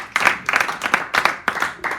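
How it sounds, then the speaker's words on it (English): A small audience claps in quick, uneven bursts, the sharp hand claps close and distinct with a few short lulls between them. "Give a round of applause for the magic moment."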